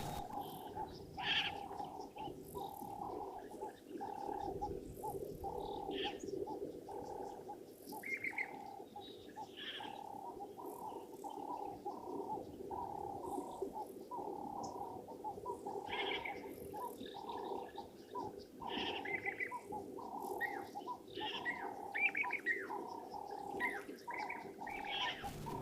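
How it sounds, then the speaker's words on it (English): Two Jacobin cuckoos repeat loud, ringing whistled calls, one answering the other, over a steady background hum, with no talking. "So nice audio of those two Jacobin cuckoos. Very cool sound."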